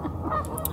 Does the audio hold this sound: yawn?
no